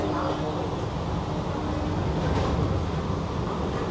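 An AC local train on the Sealdah–Ranaghat line pulls out of Kalyani station in rainy weather, heard from inside as a steady, dense rumble and rush of wheels and air.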